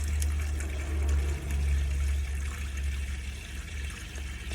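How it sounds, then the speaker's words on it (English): Water running from a tap in an AutoTrail Cheyenne 840 motorhome, a steady, fairly loud rushing flow with a low hum beneath it, continuous throughout with no talk. "Pour the water through here on the hot side"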